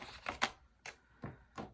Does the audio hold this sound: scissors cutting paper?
yes